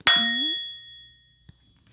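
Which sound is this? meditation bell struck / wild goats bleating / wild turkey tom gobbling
meditation bell struck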